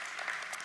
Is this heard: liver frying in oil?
no